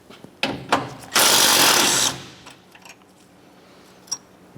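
A power tool spins out two 12mm bolts from the radiator mounts of a 2009-2010 Pontiac Vibe, with a few clicks and then a loud whirring burst of about a second, followed by a lone metallic tap.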